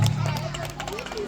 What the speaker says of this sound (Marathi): सर्वांनी टाळ्या वाजवाव्या